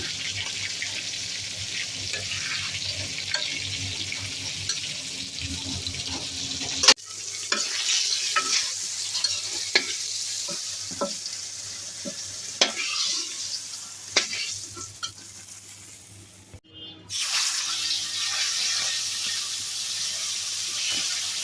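Potatoes fry in a pan with a steady sizzle, broken by occasional clinks and stirring scrapes, close up and alone, with a short interruption partway through.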